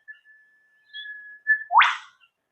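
A male whipbird calls: a long, thin whistled note held steadily, then ending in a sharp, explosive whip-crack sweep, loud and close, alone in quiet wetland surroundings.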